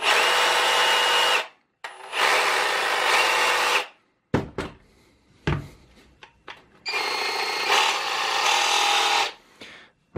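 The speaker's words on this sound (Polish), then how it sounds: "Na najwyższych obrotach oczywiście już ten hałas jest dosyć duży" A Dedra DED7061 reciprocating saw roars at top speed in three loud bursts, with short quiet gaps and a few knocks and clunks between runs.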